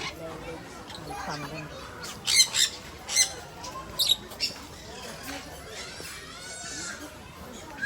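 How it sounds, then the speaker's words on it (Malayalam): Lovebirds at a pets park giving bursts of sharp squawks and chirps, several loud calls clustered mid-way, with people talking nearby in the background. "love birds,"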